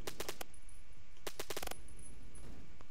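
Sharp gunshots from a gun in a video game ring out in quick bursts, a rapid cluster of shots, a pause, then another tight volley, fairly faint over a steady background.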